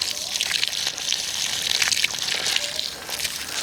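Water siphoning from a tank through a hose, a steady close gushing trickle with small splashy surges and uneven bubbling.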